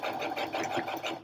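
Sewing machine stitching steadily at home, a fast, close, even mechanical whir with regular rhythmic pulses.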